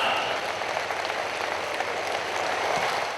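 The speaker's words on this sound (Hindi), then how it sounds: "प्राइम मिनिस्टर साहब बेटी को रिकॉग्नाइज कर रहे हैं आपकी भरपूर तालियों में।" Audience applause at a Pakistani public ceremony with the Prime Minister, a dense sustained wash of clapping throughout, loud and even with no speech over it.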